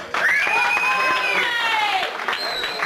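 A comedy club audience applauds and cheers, with shrill whistles rising over the clapping and crowd noise, steady and fairly loud for about three seconds.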